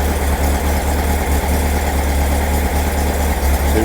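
A Formula Vee race car engine idles steadily and close by, a continuous low throbbing rumble with a slightly uneven pulse and no voices over it.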